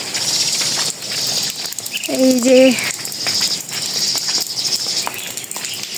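Steady patter of rain falling on a rainy afternoon in a village, a continuous hiss under the scene, with a short spoken phrase briefly rising above it.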